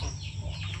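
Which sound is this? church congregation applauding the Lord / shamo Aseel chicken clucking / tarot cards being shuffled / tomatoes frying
shamo Aseel chicken clucking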